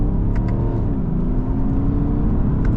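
A 2020 BMW 530d xDrive diesel sedan accelerating hard from inside the cabin, a loud, steady engine drone rising in pitch and holding strong for the whole stretch, no voices.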